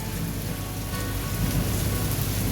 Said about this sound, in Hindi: ये देखो क्या आंधी चल रही, क्या तूफान चल रहा भाई।